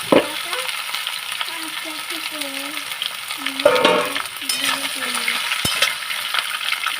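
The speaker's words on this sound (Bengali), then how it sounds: "আলু পেঁপে তারপরে সব কিছু একসাথে কলা বেগুন ডাটা সব একসাথে ভালো করে এটাকে ভেজে নেব" Potato, papaya, plantain, eggplant and drumsticks fry together in oil with a constant near sizzle and occasional metallic stirring clinks, while a soft voice talks faintly underneath.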